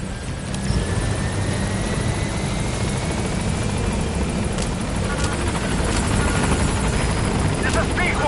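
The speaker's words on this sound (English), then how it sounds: "Go ahead and call the chopper for boss." A helicopter arrives in the video game Metal Gear Solid 5, its rotor thumping steadily and loudly throughout with a continuous engine whine layered on top.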